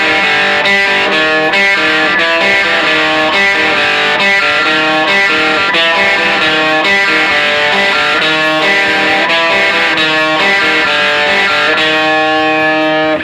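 Distorted electric guitar plays the intro of an Orange County punk song, with loud, sustained, saturated chords and arpeggiated notes ringing continuously for over ten seconds, no voices.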